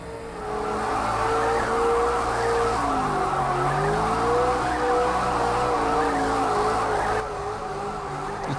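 A V8 supercar engine in the racing video game Project Cars 2 drones steadily at close range, its pitch rising and falling through gear changes, with a faint tire squeal and no talking.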